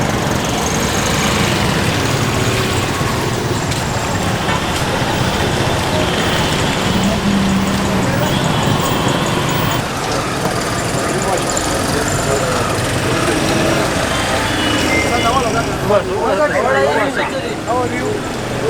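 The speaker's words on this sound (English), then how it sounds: "You see the rickshaws here just dominate the roads." Auto rickshaws and other traffic fill the streets of Peshawar, a steady, close drone of small buzzing two-stroke engines and passing vehicles, with someone talking over the din throughout.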